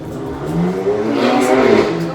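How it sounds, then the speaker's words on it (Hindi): Motorbikes rev outside a New York City apartment, a loud engine roar climbing in pitch and swelling over about two seconds, with no voices. "ये लोग फिर से बाइक चलाने लगे"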